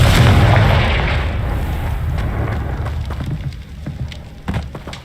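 Confringo blasting spell from Hogwarts Legacy going off in a castle setting: a loud booming blast at the start rolling into a long rumbling decay, with a few smaller pops and crackles toward the end.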